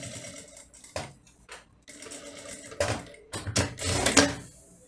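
Sewing machine stitching wavy lines as fabric is turned, a quiet run of irregular mechanical bursts of rapid whirring and clatter starting and stopping, growing louder and longer toward the end.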